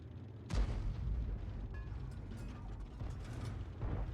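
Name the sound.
artillery shells fired in a tank video game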